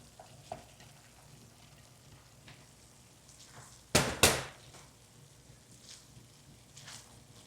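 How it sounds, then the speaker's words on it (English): Rice going into a hot pan for a turkey rice bowl gives two loud bursts of sizzle and frying near the middle, with a faint hiss of frying and light stirring around them. "But then we're going to add in our rice."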